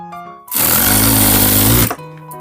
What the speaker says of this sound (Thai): เย็บแบบนี้ค่ะ ไปเรื่อยๆเลยนะคะจนกว่าจะสุดตะเข็บนะคะ